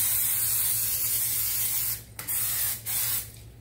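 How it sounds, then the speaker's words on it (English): Cooking spray hissing steadily onto the edges of a pie pan while a homemade pot pie is prepared, in one long near spray broken by two brief pauses. "I'm going to go ahead and spray the edges"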